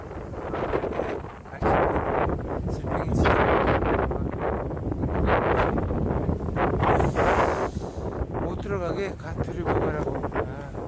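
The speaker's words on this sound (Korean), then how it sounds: "바람 많이 부죠?" Strong wind gusts across an island hiking trail on Bijindo, roaring steadily and buffeting the microphone as a loud, continuous rumble for the whole stretch.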